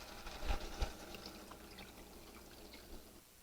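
Water pours into a pot for chicken paprikash, a short splashing gush that peaks early and then tapers to a softer trickle before stopping.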